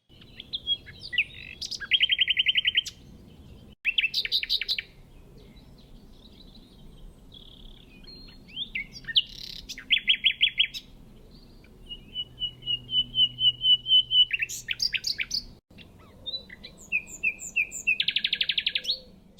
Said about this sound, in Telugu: ఆ పక్షి ఏదో తెలుసా నైటింగేల్ నైటింగేల్